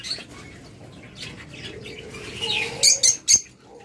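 A pair of cockatiels chirps at low volume, with a few sharp, brighter calls clustering near the end amid faint background rustle.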